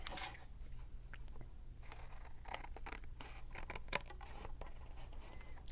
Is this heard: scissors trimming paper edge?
yes